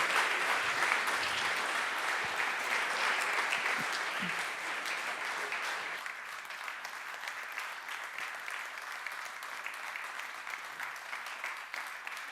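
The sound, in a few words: audience applauding at an award ceremony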